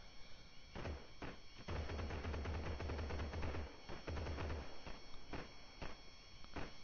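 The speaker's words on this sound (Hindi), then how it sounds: "अरे भाई एक गोलियां पार किधर से आई है।" Gunfire in the video game Gangstar New Orleans: scattered single shots, then a dense rapid burst of automatic fire lasting a couple of seconds, followed by a few more isolated shots.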